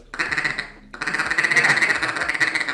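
A duck call blown to imitate a feeding duck's rapid feeder chuckle, a fast rolling series of nasal clucks, loud and close, with a brief pause before it resumes.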